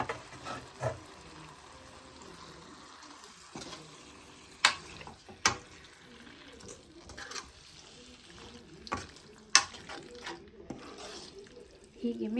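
Heart and liver being stirred in a cooking pot, with scattered scraping and clinking hits against the pot over a low sizzle, under a voice talking.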